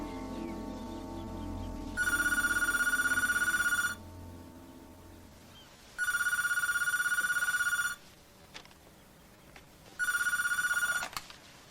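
A telephone rings in three loud, bright electronic bursts of about two seconds each, separated by quiet gaps, with no talk over it.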